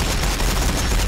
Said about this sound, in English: Warbikers firing